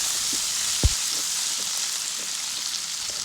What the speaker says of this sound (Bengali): দিয়ে দিচ্ছি 1 চা চামচ নুন, 1 চা চামচ হলুদ এবং ভালোভাবে নেড়েচেড়ে আমরা ভাজবো